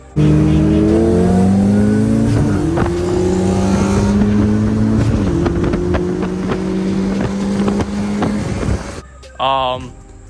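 A turbocharged Mazda Miata accelerates hard through the gears, its loud engine climbing in pitch with shift breaks between pulls, over heavy wind buffeting, then a brief tire chirp as it cuts off near the end.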